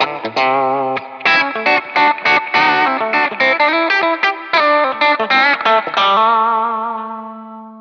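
Distorted electric guitar played through a Line 6 Helix 'Spank' patch, loud and close, with rhythmic chopped chords and short riffs that ring out into a sustained final chord fading away.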